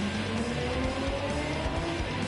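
Gran Turismo 7 race car with tyres squealing under steady engine roar, a continuous rising whine and screech holding level from start to finish, no talking.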